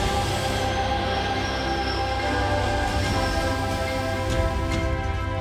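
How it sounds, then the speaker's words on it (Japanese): A Hanshin Railway train on a test run rumbles past close by near Fuku Station after track work, a steady heavy roar of wheels on rails with faint metallic squeals near the end. "工事完了後、列車の試運転を行います。"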